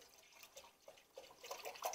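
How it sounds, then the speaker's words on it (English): Milk pours into a heavy-bottomed pan on a stovetop, a quiet, close trickle with small splashes and drips that get a little busier toward the end. "So first I'm going to need to get my milk and just add a half a gallon"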